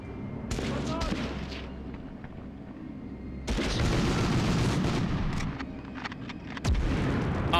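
Panzerschreck rocket fire in the 1999 PlayStation Medal of Honor game comes as heavy booming blasts amid scattered gunfire, with a louder burst midway and another near the end, all over dense battle noise.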